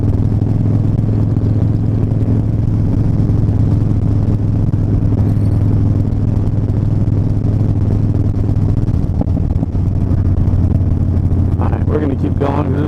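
A Harley-Davidson Dyna motorcycle with an aftermarket exhaust and breather and no tune, engine droning steadily and loud while riding, with a voice talking over it throughout.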